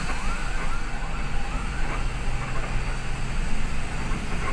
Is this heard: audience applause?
no